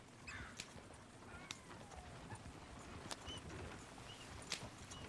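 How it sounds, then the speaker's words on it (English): Horse hooves clip-clop faintly in Red Dead Redemption 2, a steady run of soft, irregular hoofbeats over a low, continuous outdoor ambience. "Oh, shit, the horses! Damn horses!"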